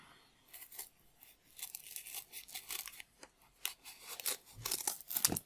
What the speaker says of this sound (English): I'm going to cut my foam pads to the right sort of size and shape.